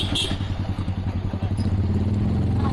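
A motorcycle rattles over speed breakers on a market road, its engine thumping in a quick, uneven rhythm of clattery pulses heard close up.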